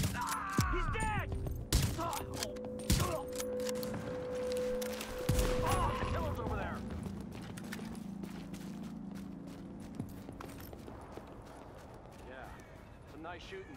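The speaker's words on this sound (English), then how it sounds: "Nice shooting there." Video game gunfire rings out in scattered sharp shots, mostly in the first half, amid hoofbeats, footsteps and background music, while voices talk over the action.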